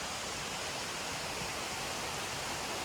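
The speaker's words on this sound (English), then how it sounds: "that's above the waterfall that we just saw kind of in the distance. And it's coming down." Waterfall on an Appalachian Trail section in the woods, heard as a steady, broad rushing roar of falling water, continuous and fairly distant, with no voices.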